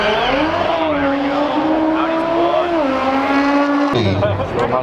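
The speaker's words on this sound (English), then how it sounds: "Go Audi! That shit's just loud." A loud Audi car engine roars steadily at a European car drag and show event in Southern California, its drone rising and shifting pitch before a sharp change near the end, with background voices underneath.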